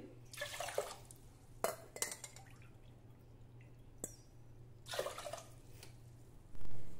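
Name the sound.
water poured into rice and lentils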